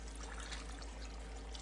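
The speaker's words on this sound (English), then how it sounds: "just add some water" Water pours steadily into a homemade dog food mixture of meat and vegetables, a soft, continuous close-up trickle with no talking.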